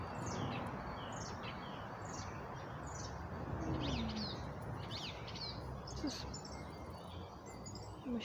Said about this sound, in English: There's some nice sounds of some birds and everything.